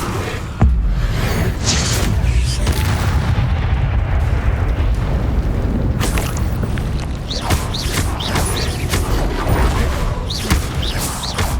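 The Bombarda explosive spell from Hogwarts Legacy lands as a loud, sustained roar of blasts and rumbling booms, with crackling debris and sharper bursts layered over a continuous heavy wash of game noise.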